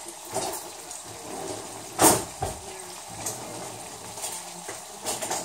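A fork and spoon stir chicken broccoli bacon alfredo in a hot pan, giving soft scraping and light clinks over a faint sizzle, with one sharper clatter near the middle.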